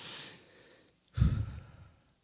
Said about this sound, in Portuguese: eu sou é o barulho que faz a nossa respiração, segundo a ciência